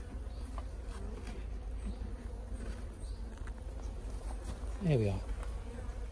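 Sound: honey bees flying around an open beehive

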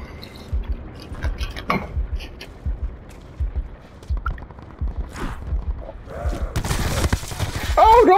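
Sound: gunfire in video game Call of Duty Black Ops 4

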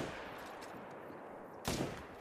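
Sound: 300 magnum rifle shot in The Hunter video game

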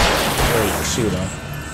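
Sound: gunfire in the video game Alan Wake

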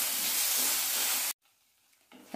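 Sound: tomatoes sautéing in oil for Kerala chicken curry

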